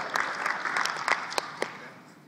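Audience applause at a Digital Dealer conference session, a short burst of clapping with a few sharp, louder claps standing out before it fades away.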